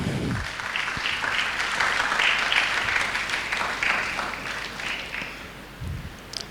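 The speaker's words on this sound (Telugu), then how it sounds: "అందరు క్లాప్స్ కొట్టాలండి" Sustained audience applause at a church youth retreat, a dense, even wash of clapping that rises and then slowly fades over several seconds.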